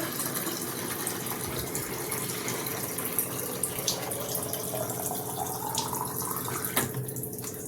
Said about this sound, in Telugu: ఇక బాటిల్లో నీళ్లు పడుతున్నా